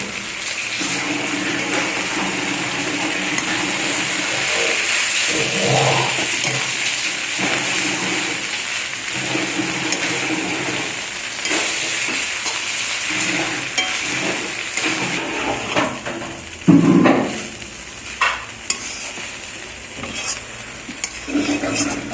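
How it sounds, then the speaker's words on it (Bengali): Chow mein noodles tipped into a hot pan and stirred, a continuous sizzle and scraping churn with bursts of louder clatter and rustling, close up and alone. "এখন চাউমিনটা ঢেলে দেওয়া হচ্ছে, চাউমিন নুডলস ঢেলে দেওয়া হচ্ছে এখন।"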